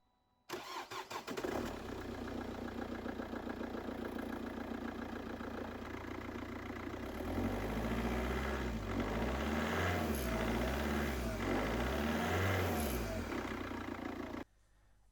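An Opel Astra H engine cranks and catches after an EGR valve cleaning, then settles into a steady idle that swells slightly louder partway through, running continuously until it cuts off.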